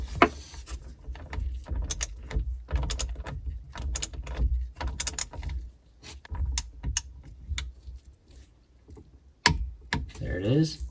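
Torque wrench clicking as fuel injector retaining bolts are tightened to 18 foot-pounds on a 2003 Sea-Doo GTX 951 DI engine, a series of sharp close ratcheting clicks and taps over a low background hum.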